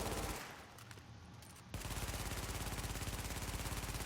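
An MP5 submachine gun firing in the game The Division, a rapid even stream of loud shots, a brief reload lull, then sustained fire resumes.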